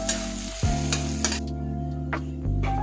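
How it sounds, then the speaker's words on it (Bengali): Chopped onions with salt fry in hot oil in a wok, a loud continuous sizzle with a few stirring scrapes. "পেঁয়াজ কুচি আর লবণ দিয়ে পেঁয়াজটাকে ভেজে নেব"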